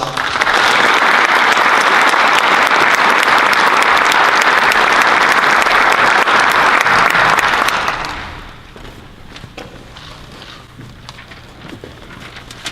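Loud, sustained applause from a high school Shark Tank event crowd greets a speaker walking onto the stage, a thick roar of clapping for about eight seconds before it tapers off into a few scattered claps and room noise.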